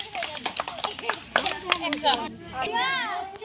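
Children clap their hands during outdoor village games in the countryside, a run of quick sharp claps mixed with excited kid voices and chatter, close by and lively.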